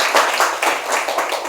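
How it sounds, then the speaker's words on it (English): An audience of Buddhist listeners at a Dharma talk claps together, a dense, steady patter of many hands at close range with a couple of faint voices mixed in. "give yourself a hand of applause"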